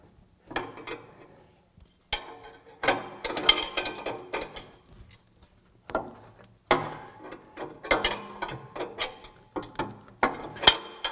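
A wrench tightening a lock nut on a Toro Dingo TX 1300 compact utility loader track, with repeated ratcheting clicks and metallic clanks coming in irregular bursts, close and clear without speech.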